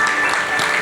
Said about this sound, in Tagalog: pinakamalakas po na palakpak